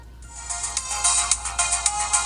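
Data East Super Pocket handheld game console powering on, playing a bright, tinny electronic startup jingle from its small front speaker, loud and close with pulsing chime notes.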